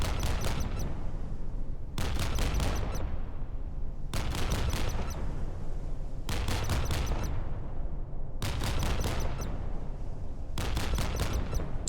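A Mark 45 naval cannon fires continuously in a video game, giving loud dense bursts of booming shots in regular groups separated by short pauses.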